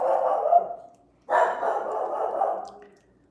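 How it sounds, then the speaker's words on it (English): A dog barks indoors in two loud bursts of rapid, overlapping yaps and woofs with a short gap between them, the second bout longer and tapering off. "my dog is having a moment"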